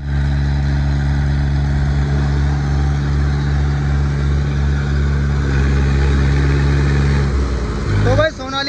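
Two farm tractors, a Mahindra 585 and a Sonalika 745, strain against each other in a tug-of-war contest, their diesel engines roaring loud and steady at high load before the pitch shifts near the end, with crowd voices underneath.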